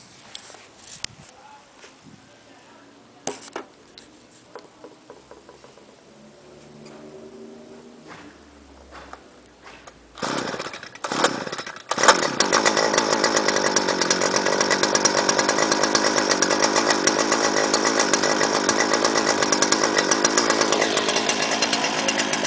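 Clearing saw with an IntelliCarb carburetor, choked for starting, after a few quiet handling noises, sputters and then catches, running at a loud steady high-pitched engine drone like a chainsaw.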